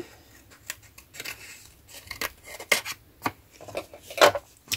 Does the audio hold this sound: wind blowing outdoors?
no